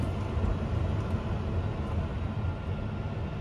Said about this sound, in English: Can anyone else hear that fan?